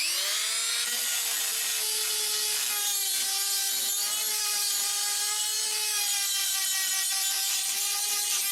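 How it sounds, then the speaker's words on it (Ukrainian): A continuous high-pitched grinding whine from a small rotary engraver grinding rust out of recesses in a VW T3 body sill, steady and loud with slight pitch wavers throughout. "Гравіровалка дуже класна штука, щоб із таких от углублінь ржавчину витягувати."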